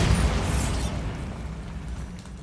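A Bombarda explosion spell from Hogwarts Legacy goes off as one loud, broad blast with a crackling burst, then rumbles and fades away over a couple of seconds.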